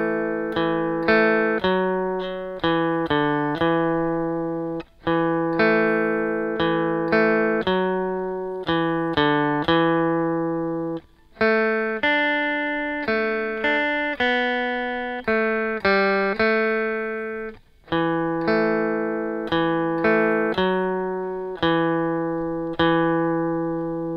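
A riff rings out on an electric guitar, a clean, close melodic line of plucked notes with steady rhythmic phrasing and brief pauses, played alone for over twenty seconds.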